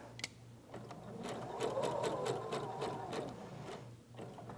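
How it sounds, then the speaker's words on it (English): A sewing machine runs a temporary stitch on a sundress, its close needle chatter humming steadily for several seconds before slowing toward the end. "Now I don't need to back stitch because this is just a temporary stitch"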